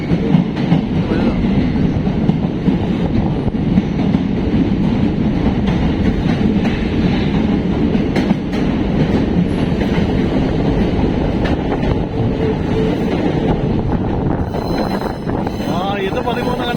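A train riding through the Western Ghats: a continuous loud rumble with rail clatter and wind noise, heard from on board, with people talking faintly under it.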